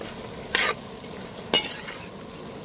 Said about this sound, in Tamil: வெண்டைக்காவை நல்லா இதிலே வதக்கிக்கிறோம்.